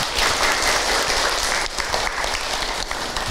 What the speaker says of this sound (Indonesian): Tepuk tangan buat Ibu Siti.